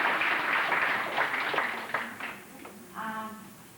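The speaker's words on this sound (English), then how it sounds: "let's give them a big applause to them once more" Applause for speakers at an English seminar on Tokashiki Island opens full and dense, then tapers off, and a voice briefly rises near the end.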